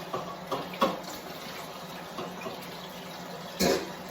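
Water running from a kitchen tap while a pot is rinsed, a steady close hiss with a few clinks and splashes as the pot is handled, no talking.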